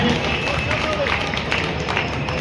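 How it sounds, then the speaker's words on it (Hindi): An audience at an outdoor kavi sammelan poetry recital at Dewa Mela 2025 claps in a dense, steady wash of applause, with crowd babble and background festival noise mixed in. "चला एक बार पूरी तालियां बजाइए"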